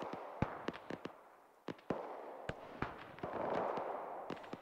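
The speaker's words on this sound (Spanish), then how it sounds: "Ahí ves las explosiones que hay en 140" Scattered sharp blasts and distant booms in the video game Arma 3, several separate explosions spaced irregularly over a low rumbling background.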